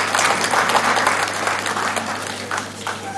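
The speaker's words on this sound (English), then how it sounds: "A big round of applause for both of you" A conference audience gives sustained, steady applause for two session chairs, dense overlapping clapping at a fairly loud level throughout, with a low steady hum beneath and no voices.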